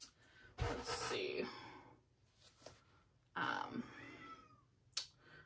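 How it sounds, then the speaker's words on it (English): A house cat crying at a closed door to be let out, several loud drawn-out meows separated by pauses, fairly close, with faint quiet whispering in between. "my cat is just not gonna let it go. She's just not gonna stop crying until I let her out."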